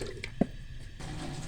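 About a glass of water is poured into a cooking pot of spiced dal mash masala, a short close splash and drip over a quiet room, with no talking.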